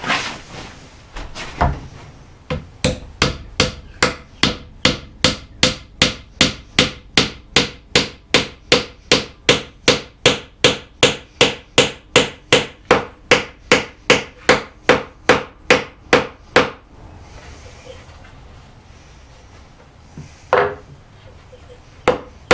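Wooden pins are hammered into a stool seat with a long, evenly spaced run of sharp, loud strikes, about thirty close blows, ending with a few scattered taps.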